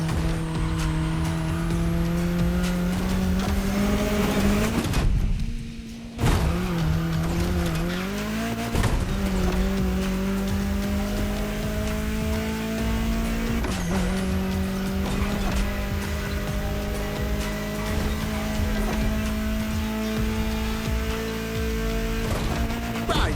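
A car in The Crew Motorfest video game cruises through a state capital town. Its engine drones steadily and loud, rising through gear shifts and cutting out briefly for a gap before pulling on again, with no voices.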